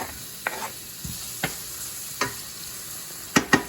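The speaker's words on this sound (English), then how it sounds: "we're gonna cook our onions and garlic. Fry them up a little bit." Onions and garlic fry in a hot pan under a soft background sizzle. Several separate scraping strokes and clinks of stirring stand out, with two louder knocks near the end.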